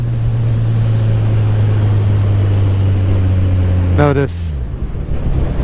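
A motorcycle engine drones steadily as the rider slows for a stop sign, with pitch shifts as it downshifts toward neutral while still rolling, heard up close with wind noise; someone speaks briefly.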